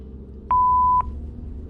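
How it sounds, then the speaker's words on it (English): A single steady electronic tone from a telephone answering machine, about half a second long and clear above a low background hum. "Leave a message after the beep."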